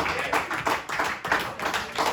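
A church congregation claps together during a sermon, producing dense, rhythmic applause in steady bursts throughout.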